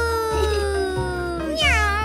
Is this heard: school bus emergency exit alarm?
no